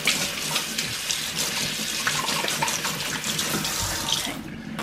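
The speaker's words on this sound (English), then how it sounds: "Let me just wash my hands again." Tap water runs steadily into a kitchen sink while hands are washed during chicken preparation, a continuous close hiss that fades out near the end.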